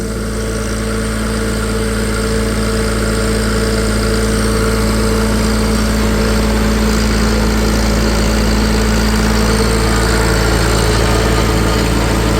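Three tractors are run one after another on a dynamometer, one of them a small model C. A loud, steady engine drone holds alone for the whole stretch, with no voices over it.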